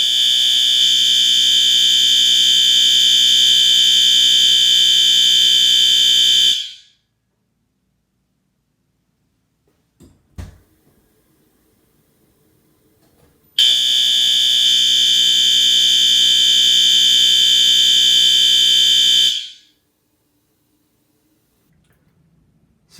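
A fire alarm horn mounted in a bathroom blares in two long, piercing, steady tones, each lasting about six seconds, separated by silence and a faint clatter.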